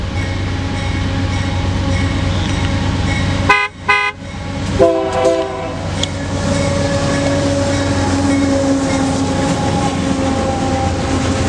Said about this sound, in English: As you can tell, this is a Union Pacific oil train